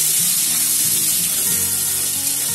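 Chopped onion and potato frying in oil, a loud, dense, hissing sizzle that holds steady throughout at close range, with faint low stirring knocks underneath.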